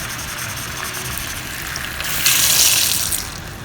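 Water gushes from a tap into a cooking pot for cabbage rolls with rice, a steady running hiss that swells louder midway before easing off.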